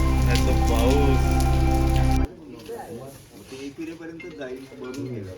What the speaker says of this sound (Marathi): पाऊस पण जोरदार आलेला आहे, खतरनाकवाला.